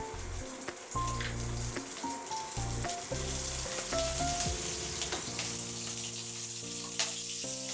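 Green and red chillies dropped into hot oil in a wok, a soft crackling sizzle running beneath a tonal musical background, fairly quiet and steady, with no talk.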